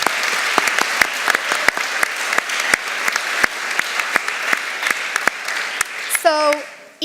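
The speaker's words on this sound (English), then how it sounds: "let's give an applause" Audience at a plenary conference session applauding steadily, dense claps throughout, fading out at the end as a voice starts to speak.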